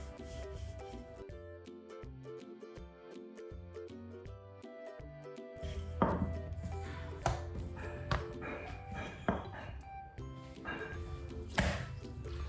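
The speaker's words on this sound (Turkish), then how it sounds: "Hamuru merdane yardımıyla açıyorum." Soft dough for Turkish potato açma is rolled out with a rolling pin, heard as repeated rubbing, rolling strokes and light knocks against the work surface, close and fairly quiet, with faint music in the background.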